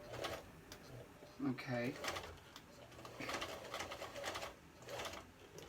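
A home sewing machine stitches back and forth over a nylon mask strap, its motor whirring in bursts at moderate volume. A person talks briefly, and pigeons coo in the background.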